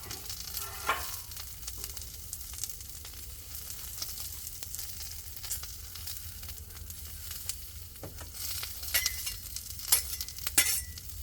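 Food sizzling on a griddle after its first cook following winter, a steady frying hiss throughout, with a few scraping taps of spatulas sliding and flipping near the end, close and moderately quiet, no talking.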